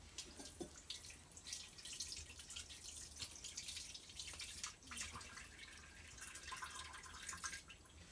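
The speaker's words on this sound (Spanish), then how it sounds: "Meto aquí agua en la botija esta." Water poured into a clay botija jug, faint trickling and dripping with small splashes, fairly close and continuous with no talking.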